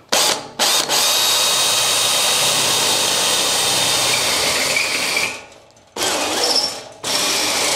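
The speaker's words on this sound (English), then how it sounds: "Should have got a sharper drill bit as well." A power drill bores a hole into a traction board table for an overland Land Rover 110 camper, whining loudly and steadily with brief stops and restarts.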